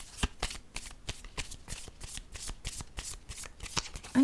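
Tarot cards being shuffled in a steady run of about fifteen crisp riffling bursts, close and fairly quiet, with no voices.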